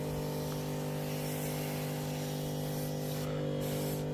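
Hot water sprays heavily inside a van during an interior deep clean, a steady even hiss held at constant level over a low mechanical hum throughout.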